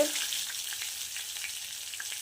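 Parshe fish fry in hot oil with a steady, dense sizzle that crackles evenly throughout, close and continuous with no voices.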